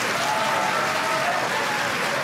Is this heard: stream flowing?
no